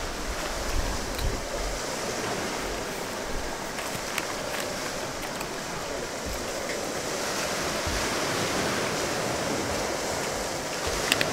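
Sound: sea waves on a beach

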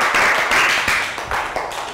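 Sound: classroom round of applause

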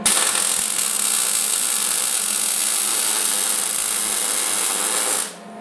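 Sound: welding a bead to fill a gap, MIG/TIG welding cart

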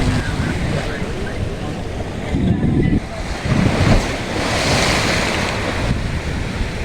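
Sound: sea waves breaking on shore

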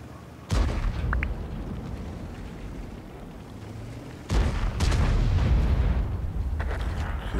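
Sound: enemy tank gun firing in World of Tanks video game

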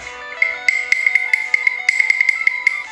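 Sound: wooden cattle bell ringing

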